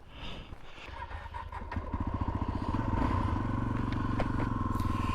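A motorcycle engine starts up and settles into a running idle, its rapid rhythmic firing pulses growing louder and steadier, heard close with some clatter and no talking.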